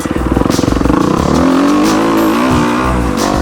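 A dirt bike engine revs hard on a deep sand motocross track at a Georgia training facility and raceway, a loud, close, buzzing drone that pulses then rises into a sustained high-pitched pull with no talking.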